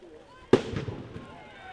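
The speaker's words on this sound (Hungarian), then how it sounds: "És jön a Balkányi petárda." A firecracker bursts at a rainy football match between Rakamaz and Balkány, one sharp loud bang followed by a rumbling echo that fades over a second, with a commentator's voice nearby.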